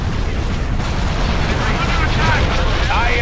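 Explosive space-combat booms and blasts from torpedoes striking enemy fighters in Star Wars: Empire at War, a dense, continuous rumble of impacts with a steady loud roar and no clear gaps.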